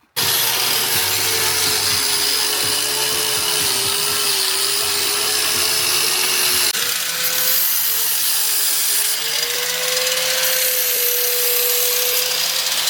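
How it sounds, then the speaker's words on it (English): A power grinder running continuously beneath a 1968 Ford Mustang, grinding down factory undercoating with a loud, steady abrasive whine and a shifting tone, close and without talk. "we grind down the areas that need to be ground down"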